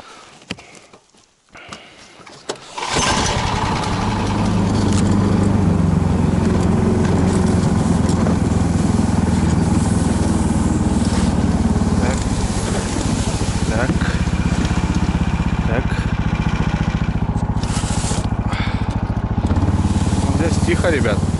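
Outboard motor of a small boat on a river starts roaring after a quiet moment and drones loudly and steadily across the water toward the far bank on a night fishing trip, with voices faintly under it.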